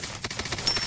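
Rapid gunfire rattles in a zombie video game, a quick burst of sharp repeated shots packed into under a second, with no talk.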